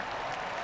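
Faint, steady crowd applause in the golf video game PGA TOUR 2K23, a soft wash of distant clapping with no other sounds.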